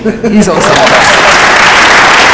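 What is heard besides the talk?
applause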